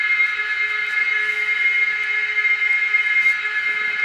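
A Fleischmann 739394 N gauge DCC sound locomotive runs slowly, giving a steady, unbroken tonal drone with a constant hum and faint ticks throughout, close and fairly loud with no talking.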